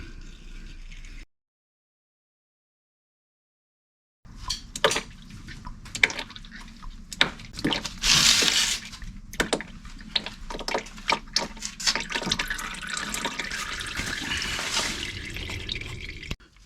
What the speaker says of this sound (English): Put a drain pan here. I'm gonna drain the transmission.